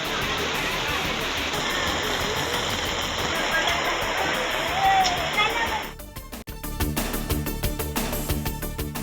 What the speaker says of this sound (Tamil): ஏற்காட்டில் பெய்த கனமழையால் மலைப்பாதையின் 2வது கொண்டை ஊசி வளைவில் அருவியாக கொட்டிய வெள்ளம்